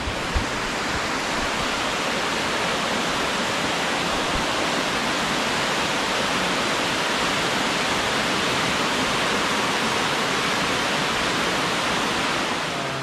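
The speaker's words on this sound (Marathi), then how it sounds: "तुम्ही बघताय माझ्या खालून जो धबधबा वाहतो आहे, हा धबधबा एका खोल दरीत खाली कोसळतो आहे" A waterfall plunging into a deep valley at Amboli roars as a loud, steady rush of falling water, heard close and unbroken with no voices.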